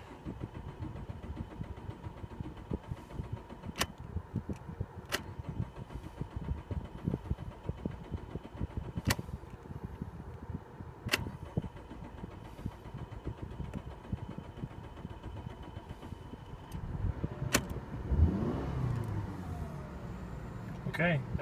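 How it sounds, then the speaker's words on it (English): A 2014 Subaru Forester in poor running condition cranks and struggles to start, with a steady mechanical churn running throughout, a few sharp clicks and a rougher surge near the end. "Okay, that's pretty poor starting."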